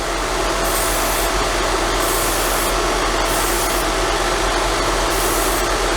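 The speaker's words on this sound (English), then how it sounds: "Now I'm spraying from a very close distance, so you need to be very, very quick." An aerosol can of primer paint hisses loudly up close in repeated bursts, with steady background noise throughout.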